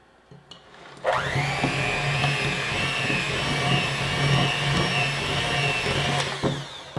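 An electric mixer beats blondie batter, starting abruptly and running as a loud, steady motorized whir with a constant high whine and slight rattling, then cutting off near the end.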